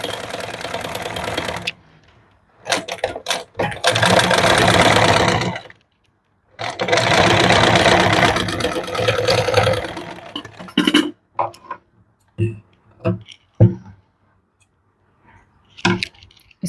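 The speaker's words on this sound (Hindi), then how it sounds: "पहले ऊपर वाले नेक पर सिलाई लगा लेंगे।" A sewing machine stitches the back neck of a princess cut blouse in two long whirring runs, then gives short stop-start bursts with quiet pauses between them, close and clear with no voices.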